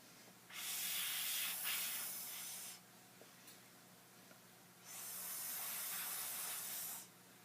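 Air blown hard through a straw onto wet paint or glue for a Halloween costume, two long close breathy hisses separated by a quiet pause.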